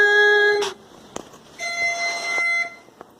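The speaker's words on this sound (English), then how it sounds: "Stop the timer." A kitchen timer beeps loudly for baked cookies, a steady electronic tone that stops, followed by a brief click and a second stretch of beeping.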